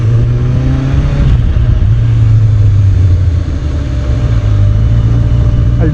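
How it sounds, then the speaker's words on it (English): A superbike engine runs loud and close, holding a steady revving drone as the rider pulls the clutch and shifts from first into second gear. "so now when I'm at first gear, I'll go to second, I'll pull in the clutch"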